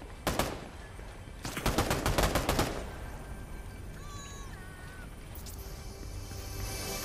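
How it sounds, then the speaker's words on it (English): Fortnite gunfire crackles as a quick single shot followed by a rapid burst of close shots, then fades into ambient game sounds with faint tonal chirps. "Are you shooting someone?"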